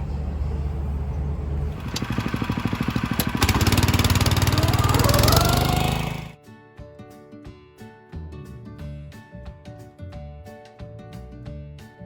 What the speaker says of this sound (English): Doing a little mowing out here.